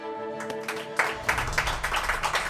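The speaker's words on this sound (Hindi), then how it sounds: "मकान मालिक बापोद्रा के लिए तालियां।" Applause for a landlord in a Hindi TV drama scene: a burst of clapping starts after a brief lead-in and continues steadily, a small group clapping close by with some background murmur.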